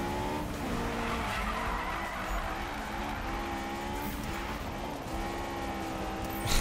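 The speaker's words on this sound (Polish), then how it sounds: "Tutaj się driftuje w tym aucie." A car drifts on asphalt in the Need for Speed 2015 racing game, with sustained tire squeal and skidding over a droning engine, loud and continuous throughout.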